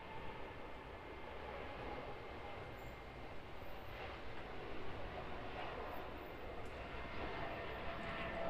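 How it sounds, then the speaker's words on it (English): A Boeing 777 airliner takes off from an airport, its engines a steady, broad roar heard from a distance without any talk. "Boeing 777 off to Denpasar."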